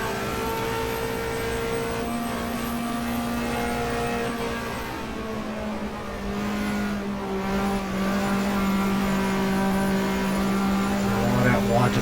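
Race cars accelerating around Eastern Creek in the racing game GTR2 (1994 Australian Manufacturers Championship), with a steady, loud, layered engine drone and shifting pitch as several cars rev and run close together throughout.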